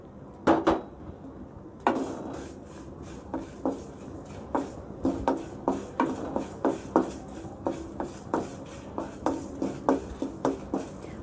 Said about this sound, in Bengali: আমি এখন পাঁচফোড়নগুলো ভেজে নিচ্ছি।